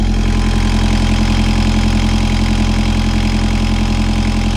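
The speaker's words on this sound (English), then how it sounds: "I've got the engine running at the moment, so excuse the noise." A canal boat's engine idles close by with a steady, loud mechanical rumble and even low throb that never varies, with no other sounds.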